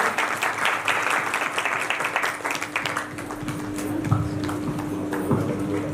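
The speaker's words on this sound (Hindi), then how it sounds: "तालियों से इनका अभिनंदन करेंगे" An audience at a devotional Bhagavat Katha gathering applauds to welcome the Ramlila committee president, brisk crowd clapping that thins after a few seconds, leaving a steady tone and a room murmur with voices.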